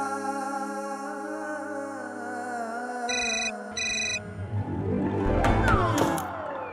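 A telephone rings in two short electronic bursts over a sustained tonal background, followed by clattering handling noise.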